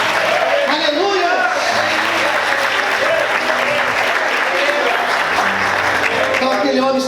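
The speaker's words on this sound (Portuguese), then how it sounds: "Você pode aplaudir e exaltar o Senhor por isso." Church congregation clapping loudly and continuously during an evangelical service, with voices and shouts of praise mixed into the sustained applause.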